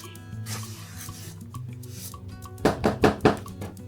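Dry vegan sheet cake ingredients with baking powder are stirred together in a bowl. Soft rubbing continues over a faint tonal background, then three or four loud, close scraping strokes come in a quick rhythm near the end.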